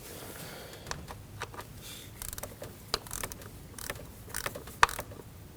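Metallic clicks and ratcheting snaps from a torque wrench tightening a bolt to 62 inch-pounds while replacing a camshaft position sensor on a Ford Edge, irregular and close, with a few sharper clicks near the end.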